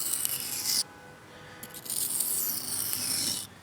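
A knife edge rasps in long strokes across a cheap sharpening stone, two bursts of gritty scraping separated by a short pause, close and fairly loud.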